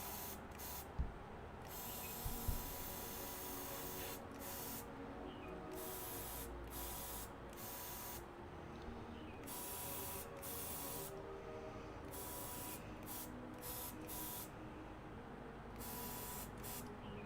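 A LATITOP airbrush sprays paint onto D&D tabletop terrain, giving a steady soft hiss broken by many brief pauses, close and quiet, with a couple of faint knocks early on.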